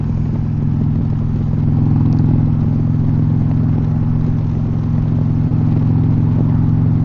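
An Indian Pursuit motorcycle riding along an open road at around 50 mph, its engine holding a loud, steady drone with constant wind rush and no speech.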